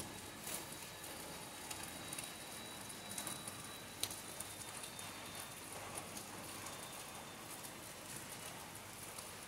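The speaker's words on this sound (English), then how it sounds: "rain is getting slow" Rain falling during a cold, rainy season, a faint, steady patter of drops on surfaces with a few slightly sharper taps, soft and continuous throughout.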